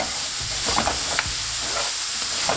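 Mushrooms fry in hot oil over high heat, a loud steady sizzle with stirring scrapes and clacks of the pan, close up and without talk.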